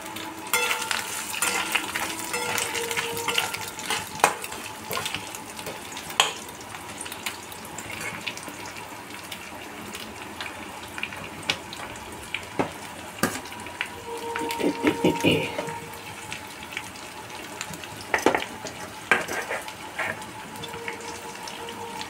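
Grated coconut sizzles in a spiced tempering as it is stirred in a pan for a mixed-vegetable paneer dish, giving steady close frying crackle with scrapes and clinks.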